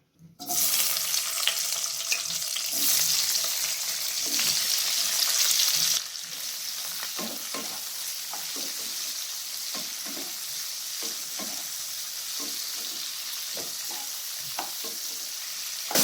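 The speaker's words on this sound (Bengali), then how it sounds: "এরপর সবজিগুলোকে হালকা ফ্রাই করে নেব" Vegetables lightly frying in white oil in a wok: a bright, loud sizzle for the first few seconds, then a softer hiss broken by repeated stirring scrapes and clatters.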